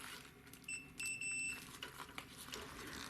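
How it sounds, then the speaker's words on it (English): A multimeter beeps briefly while checking continuity on a replacement heating element for a Kenmore Elite HE4t dryer, a couple of short high tones over a low background hum. "I'm going to go back with my multimeter"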